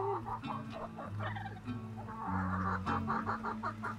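Chickens and a rooster clucking close by, a busy run of short, overlapping clucks and calls from several birds.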